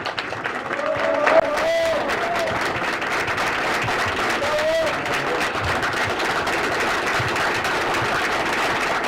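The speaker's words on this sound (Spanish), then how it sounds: "Un aplauso fuerte al camarada." An audience at a book launch gives steady, sustained applause for the speaker, a dense wash of clapping that holds at the same loudness throughout. A few faint voices or whistles sound briefly over it.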